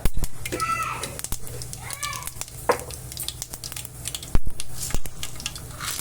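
Mustard seeds and cumin sizzle in hot oil while radish and moong dal are being prepared: a steady frying hiss with scattered sharp pops and crackles, and a voice speaks over it.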